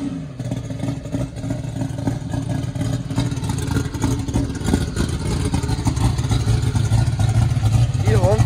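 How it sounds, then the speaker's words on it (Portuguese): A car engine revs and rumbles loudly at a Thursday car meet in Barueri, São Paulo, with a steady throaty drone and a rising rev near the end, crowd chatter faintly underneath. "Que ronco mais lindo, galera"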